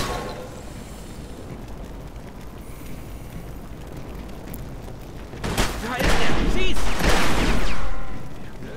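Gunfire in the video game Mafia 2 during a shootout. A quiet, noisy stretch gives way to a loud, dense burst of rapid shots that lasts a few seconds before easing off.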